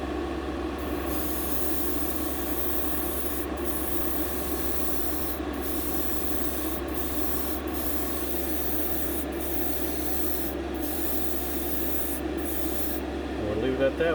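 An airbrush sprays tint paint onto the glass of a model car in a steady, continuous hiss over a constant low hum. It is broken by several short pauses and ends with a brief clatter.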